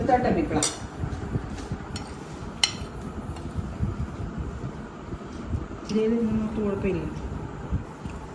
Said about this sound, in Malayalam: സ്പൂൺ കൊണ്ട് എടുക്കുമ്പോൾ ചിലപ്പോൾ ഒച്ച കേൾക്കും ഒച്ച കേൾക്കാതെ കഴിക്കുന്നതാണ് മാന്യത പ്രത്യേകിച്ച് മെറ്റൽ പ്ലേറ്റ് ആണെങ്കിൽ അറിയാതെ ശബ്ദം കൂടും